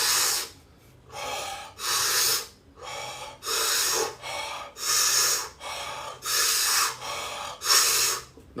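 Deep breathing exercise heard as close, forceful breaths in a quick steady rhythm, roughly eight to nine hissing cycles separated by short pauses.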